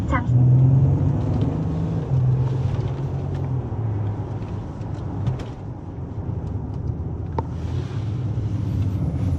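Mercedes GLE 450, a heavy SUV, driving on a test lap: a steady low engine and road rumble with tyre noise and some wind buffeting continues throughout.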